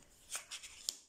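A tarot card slides and is laid over another card on a table, giving a few soft, brief papery swishes and a light tap, faint and close, with no talk.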